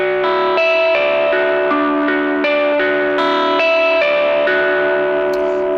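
Electric guitar picking a repeated pattern over one chord, heavily processed with effects, a steady stream of bright, echoing notes throughout.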